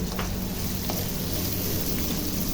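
Onions and ginger fry steadily in a pan, a close, even sizzle running without break from start to end with no talk.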